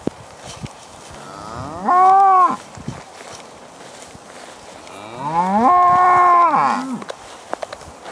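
Cattle grazing a long-term ley field give two long, loud, close moos, the second drawn out, with quiet field ambience between calls.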